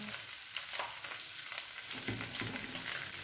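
A layer of potato fries in a frying pan, giving a steady, close hiss and crackle of sizzling oil that runs throughout with no break.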